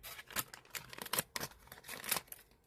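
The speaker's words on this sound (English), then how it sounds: "I need scissors." Scissors snipping nearby at a knitting and crochet table, a handful of short, sharp crisp cuts spaced irregularly in an otherwise quiet room.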